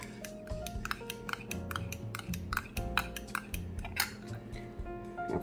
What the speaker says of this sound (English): And then what you're going to do is just stir.